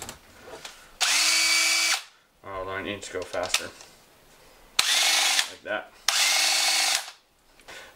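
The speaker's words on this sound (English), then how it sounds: "so when this thing spins around from my drill here, it makes a nice vibrator" A power drill spins a bent screw fitted with offset washers to make a vibrator, giving two loud, steady whirring bursts separated by speech, then two more runs that start and stop abruptly.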